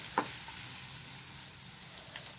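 Chopped tomatoes frying in a pan for a tomato curry, with a soft, steady sizzle and a few light clinks of a spoon as they are stirred in. No voices.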